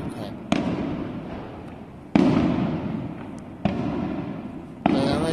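New Year's Eve fireworks over Shulin District, New Taipei, seen between tall buildings: four sharp, loud bursts at uneven intervals, each booming blast followed by a long rumbling, crackling decay that fills the gaps.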